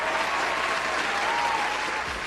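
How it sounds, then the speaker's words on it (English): A crowd applauds in a dense, steady burst of clapping that holds at an even loudness throughout, with no speech over it. "Give him a round of applause."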